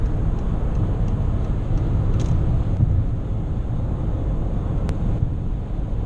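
A Mercedes W124 cruises steadily along a road, its low broadband rumble and road noise continuous and even throughout, heard from inside the cabin with no talking.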